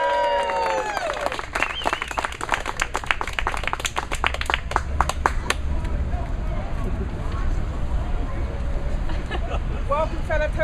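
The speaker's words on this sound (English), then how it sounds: "A round of applause to Elaine Lawrence." A room of Toastmasters club members and guests in Grosvenor Square, Hyde Park, applauds a speaker. Sharp, close claps start out distinct and then merge into a busy round of clapping, with chatter and voices in the room underneath.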